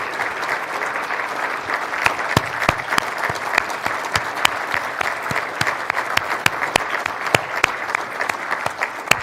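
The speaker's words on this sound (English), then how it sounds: "if you could also please stand up for a round of applause" Enthusiastic applause from an audience for Ontario Ministry of Energy staff at a ministerial event, with sharp individual claps standing out from the dense clapping throughout.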